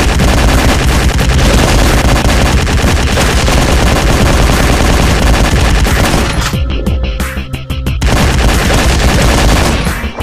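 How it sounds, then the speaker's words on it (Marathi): Rapid, continuous bursts of powerful gunfire blast from the Zombie Roadkill shooting game, loud and dense, with a brief dip in the barrage before it resumes. "आपल्याकडे पण पॉवरफुल गन आहे जे की त्यांना हेडशॉटवर हेडशॉट देत जाणार"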